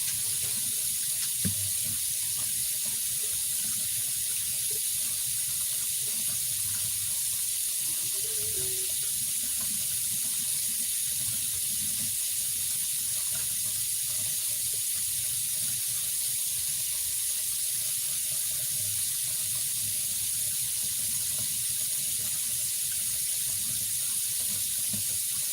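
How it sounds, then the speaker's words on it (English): A steady, continuous rush of water runs into a kitchen sink for the whole stretch, close and even in level, with faint clatter in the background and no talking. "So, this is the pasta water. I don't know if I should put it down the sink."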